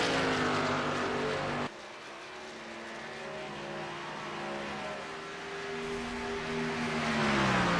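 Race cars at speed during qualifying, engines droning with steady harmonic tones that shift in pitch as they pass and downshift, heard alone at moderate loudness.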